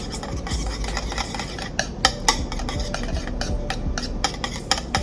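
A whisk stirs Benihana-style Yum Yum sauce with heavy whipping cream in a bowl, giving a steady close scraping and swishing with quick clinks of metal against the bowl throughout.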